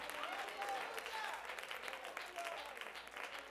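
Sustained applause from a church congregation, many hands clapping together in a dense, steady patter, with voices calling out beneath it.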